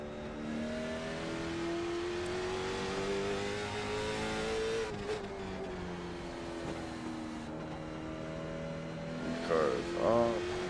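Late model stock cars race at Oxford Plains in the iRacing simulator, a steady engine drone rising and falling through the gears with brief tire squeal near the end, at moderate level with no talk.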